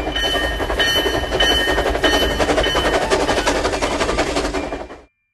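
A train sound effect in a children's alphabet song: a loud, continuous, rhythmic clickety-clack rolling evenly, then cutting off abruptly just before the end.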